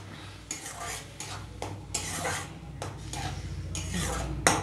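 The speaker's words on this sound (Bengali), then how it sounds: "এবার এটা ভালো করে কষাবো।" Spices such as turmeric, coriander and chilli powder sautéing in a pan for a fish curry, with bursts of scraping stirring strokes and metallic clinks over a faint sizzle, close by.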